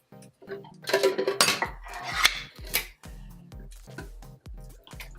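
Cherries scraped out into a cobbler dish, with a spoon rasping and clinking against the dish in a busy, close burst, then trailing off into a few lighter taps.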